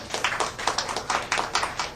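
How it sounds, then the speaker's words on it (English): Applause from the audience at a 9-ball billiards match, the Virginia State 9-Ball championship, welcoming a player; a steady patter of hand claps with rhythmic surges, moderately loud and close, with no voices. "Give him a nice round of applause for him, please."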